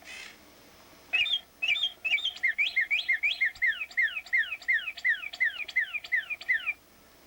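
A bird calls nearby in a rapid, steady string of about twenty bright, repeated down-slurred chirps that starts after a second of quiet and cuts off abruptly, heard alone.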